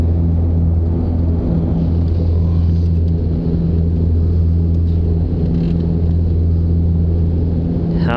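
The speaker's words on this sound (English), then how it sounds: "Okay, soon we're gonna take off." Steady loud engine drone with strong low harmonic hum fills an Antonov passenger plane cabin during takeoff and climb, continuous and unbroken throughout.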